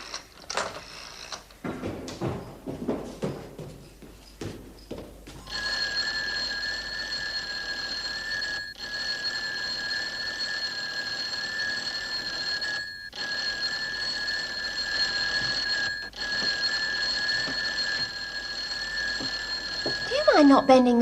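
A bell rings in a long, steady electric peal that holds for many seconds with a few brief breaks, following a stretch of talking and movement.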